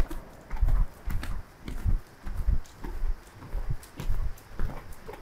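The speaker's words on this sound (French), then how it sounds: "ton cheval, il commence à galoper dans son équilibre naturel" Horse galloping in a riding lesson, hooves thudding in a regular rolling three-beat rhythm, close and fairly loud, with no talk over it.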